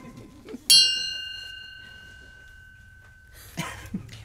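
A single clock chime rings out in a live radio-play performance, one loud bright strike that hangs and slowly fades, followed near the end by a brief rustle of other noise.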